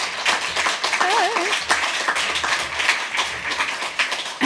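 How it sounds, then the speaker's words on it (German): An audience claps for Dennis, giving dense, fairly loud rhythmic applause with scattered individual claps standing out, and a voice is briefly heard over it. "Und ich möchte, dass ihr jetzt einen großen Applaus gebt an den Dennis"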